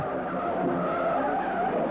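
A Ford car with bad brakes skids in a film, tires squealing in a sustained, loud screech with engine noise underneath, steady from start to finish with no speech.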